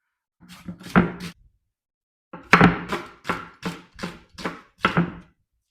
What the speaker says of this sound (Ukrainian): зараз я її буду нарізати. Я нарізаю не дуже тонко.